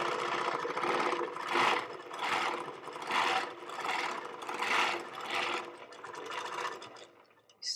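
Handi Quilter Moxie longarm machine stitching a quilt, a whirring motor with needle chatter that swells and fades in about five rhythmic passes as the machine moves, ending with a pause and a brief restart.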